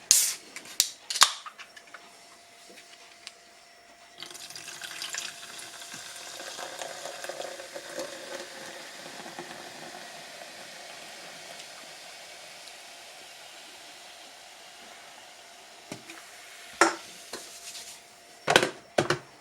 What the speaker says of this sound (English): make the hot spice cider using the coffee machine